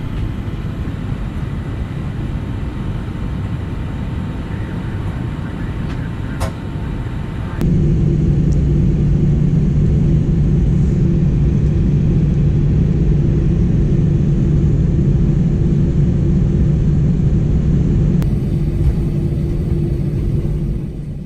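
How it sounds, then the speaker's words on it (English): Steady low engine rumble inside the first-class cabin of an Alaska Airlines airliner, jumping louder partway through as the plane taxis to the runway; no talking. "We started our taxi out to the runway."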